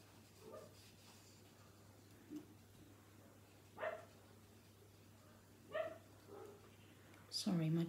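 Neighbour's dogs barking in the distance, a few scattered short barks and yips separated by pauses, faint and far off over a low steady hum, a person talking near the end.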